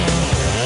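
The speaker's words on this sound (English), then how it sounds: "Chainsaw's wedged in the log." A chainsaw running in a log, its blade wedged, a loud close buzzing drone that wavers slightly for under a second, with no speech.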